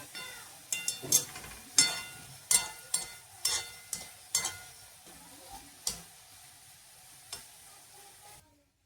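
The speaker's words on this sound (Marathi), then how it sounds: "असा कांदा एकदम लाल मस्त लगे होऊ द्यायचा" Onions fry until red for murmura chivda, a soft sizzle punctuated by about a dozen sharp spoon scrapes and knocks against the pan, fading out near the end.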